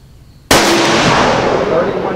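A single sharp rifle gunshot fires during chronograph velocity testing, loud and close, its blast ringing into a long decaying tail after a moment of quiet.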